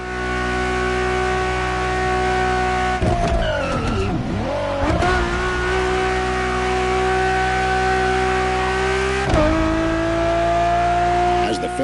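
Ferrari Enzo V12 engine in The Crew Motorfest hums steadily and loudly, with brief revving pitch dips and tire squeal midway before settling back into a constant drone.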